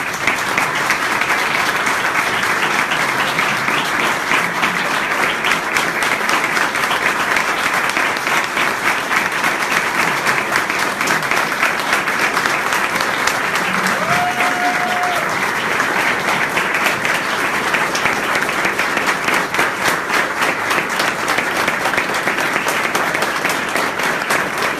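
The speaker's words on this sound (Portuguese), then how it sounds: "E eu queria que vocês aplaudissem o meu filho" A large convention audience at a women's event applauds steadily and loudly for the whole stretch, dense continuous clapping with no pauses.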